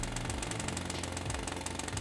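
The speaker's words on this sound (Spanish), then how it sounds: "Un martillo hidráulico." A jackhammer sample played back in a software sampler gives a steady, fast rattling pound, faint and continuous with no one speaking.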